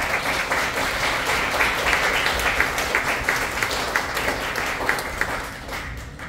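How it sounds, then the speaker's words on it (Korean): Congregation at Immanuel Church in Gurgaon applauding the church choir after an Easter Sunday worship service, a steady dense wash of clapping that holds at an even level for several seconds and then thins slightly toward the end. "격려의 박수 하겠습니다"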